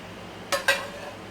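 Two quick glassy clinks as canning jars, filled with pickled dill red onions and fitted with lids, are set down into a canner in a kitchen, brief and close against a quiet background.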